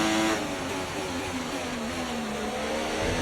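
Simulated Formula 1 race car in F1 24 on throttle, a continuous buzzing engine note with a rising pitch sweep, steady and close, no voices over it.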